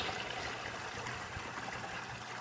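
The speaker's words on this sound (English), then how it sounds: "I let the sluice run a little bit before I started it" Water runs steadily through a gold prospecting sluice during a culvert cleanup, a soft continuous trickling rush, fairly quiet and close, with no voices over it.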